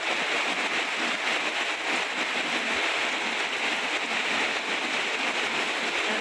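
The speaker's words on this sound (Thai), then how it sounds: "ฝนก็ตกแรงเลย" Heavy rain pours down steadily during a daylong storm, a dense, loud hiss of water on surfaces that never lets up, with no voices breaking through.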